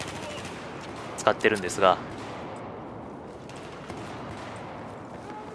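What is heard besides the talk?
Desert Eagle pistol gunfire, video game Battlefield 4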